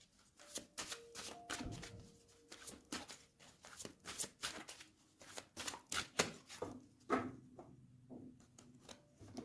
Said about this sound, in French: Je vais faire une petite coupe pour avoir un message.